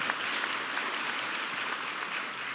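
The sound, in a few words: applause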